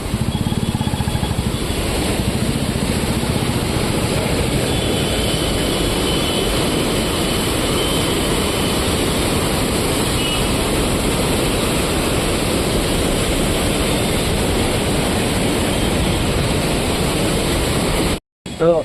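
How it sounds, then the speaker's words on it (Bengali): The fast Ganges current rushes through the barrage at Haridwar as a loud, unbroken roar of water that cuts off abruptly right at the end. "এই হইল জলের স্রোত।"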